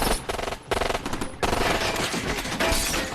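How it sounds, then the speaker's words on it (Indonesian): Rapid automatic gunfire rattles through a night firefight between a group and rebels in the 2007 film Primeval, in dense continuous bursts with no pauses across the whole stretch. "Baku tembak pun tidak terhindarkan lagi."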